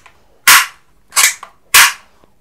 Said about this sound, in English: this is toy soft gun